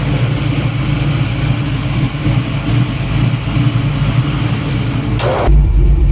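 A rusty old station wagon's engine runs loud and close, a steady mechanical drone that shifts in tone near the end.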